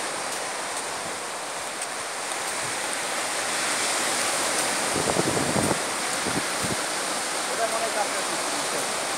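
Sea waves roar at St. Martin's Island, a loud continuous broadband wash of surf with swelling surges and a few nearby thuds of breaking water, without talk.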